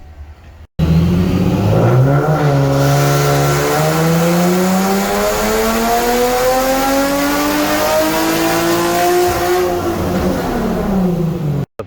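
A supercharged 2010 Nissan 370Z engine revs hard on a dyno, pulling in one long, loud, rising sweep for around ten seconds before easing off, with a clear whine and no voices.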